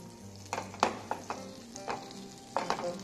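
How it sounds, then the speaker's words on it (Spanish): Butter melting in a hot frying pan, giving soft sizzling broken by several close, sharp clicks and scrapes of stirring against the pan. "Estoy poniendo una sartén caliente y la mantequilla. Vamos a derretir la mantequilla."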